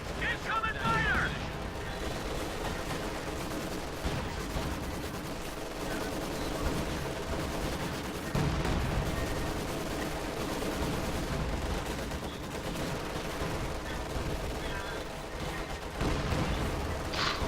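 Sustained battlefield gunfire in Company of Heroes 2, with machine-gun bursts, scattered shots and distant explosions forming a dense, continuous din. Game voice callouts speak over the combat.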